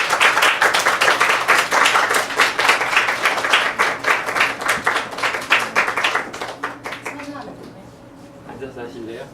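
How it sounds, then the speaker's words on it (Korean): Audience applause at a lecture event in a hall, as a sommelier is welcomed to the stage: loud, dense clapping for about six seconds that fades out, followed by a voice speaking. "박수 보내주세요."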